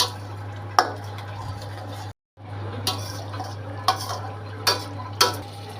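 Ginger and garlic paste stir-frying over low heat in a pan: a steady low sizzle broken by sharp scraping clicks of a spatula against the metal, with one brief dropout partway through.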